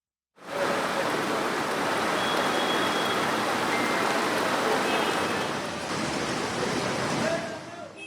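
Heavy, sustained rain pours over flooded city streets in the capital after two days of downpour, a dense, steady roaring hiss that starts abruptly and continues loud and unbroken.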